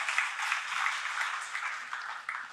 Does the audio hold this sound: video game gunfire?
no